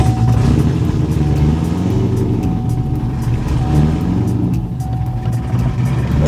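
A C7 Corvette engine runs with a loud, steady, deep rumble that stays close and constant throughout, with no speech over it.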